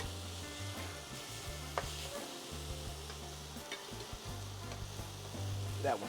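Blackened salmon fillets sizzle steadily in frying pans that are shaken and nudged now and then, giving a constant bright crackle with occasional scraping clunks of pan movement.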